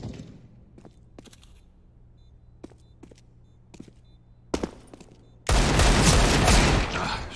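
Counter-Strike gunfire on the Mirage map: scattered faint footsteps and small clicks, a sharp shot near 4.6 s, then a loud, sustained burst of automatic fire up close from about 5.5 s.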